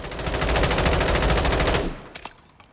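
An M16A3 (JAK Patriot) rifle in Call of Duty Modern Warfare III fires a sustained rapid burst of automatic gunfire for about two seconds, then a few faint trailing clicks and taps as it stops.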